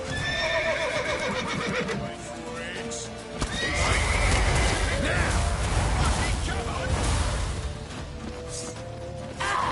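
Horses neigh loudly amid galloping hooves, crashes and shouting voices in a busy, chaotic chase scene in the video game The Witcher 3: Wild Hunt.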